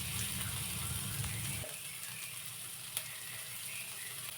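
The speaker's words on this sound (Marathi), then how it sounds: "शेंगदाणे आणि कांदा आता व्यवस्थित चांगला परतून घ्यायचा आहे" Raw peanuts and onion with a pinch of salt sauté in a pan, with a soft steady sizzle. A low rumbling stir fades after the first couple of seconds, and one brief clack follows.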